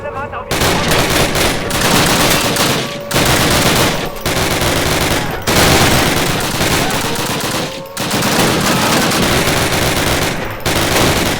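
Sustained automatic weapon fire from Call of Duty Classic during a Nazi camp raid, loud and close, with long bursts broken by brief pauses about every two to three seconds.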